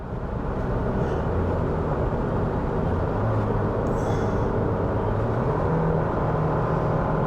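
A 2024 Toyota Land Cruiser pulls a trailer uphill at highway speed, a constant loud cabin drone of engine and road roar with slowly shifting low engine tones and no talking.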